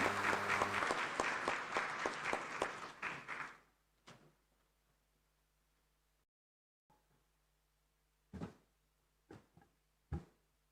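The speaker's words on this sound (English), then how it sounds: "Please, another round of applause for Dr. David Odenga" Audience applause at an African inter-parliamentary conference, a dense burst of clapping from a hall crowd that fades out after about four seconds, followed by quiet with a few scattered taps and knocks.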